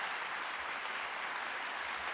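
Audience applause at a 2015 CSULB convocation, a dense, steady wash of clapping from a large crowd, continuous and fairly distant with no talk.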